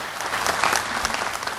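A brief burst of warm applause rises from the crowd at a televised volunteer-service awards ceremony, many hands clapping close and full for a moment.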